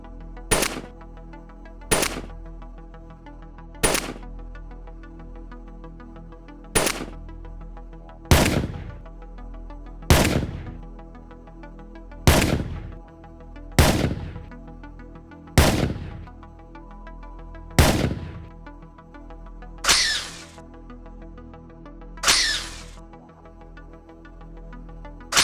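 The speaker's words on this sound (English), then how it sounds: "But it's still cool that the sounds for the Programmable AR are still in the game" Programmable AR weapon sound files from GTA Online played back one after another: about a dozen sharp, loud single gunshots at a steady pace of roughly one every two seconds, each with a ringing tail, no voices.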